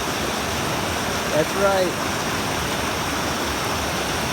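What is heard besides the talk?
river water flowing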